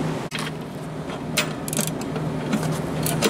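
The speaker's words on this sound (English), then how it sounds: "Take these two screws off the front of it with the nut driver" A nut driver turns and backs out two screws from the front panel of a wine cooler during a compressor change, giving close, steady ratcheting and mechanical clicking with scattered metallic ticks throughout.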